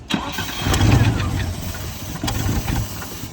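A Land Rover Discovery I engine cranks in a few rough bursts, then catches and starts, running unevenly nearby with clanks between revs; someone speaks faintly in the background.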